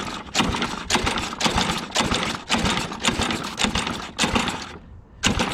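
Repeated pull-starts on a Craftsman 7 HP lawn mower engine give about seven rhythmic bursts of cord rasp and engine turnover, close and fairly loud, with short pauses between pulls.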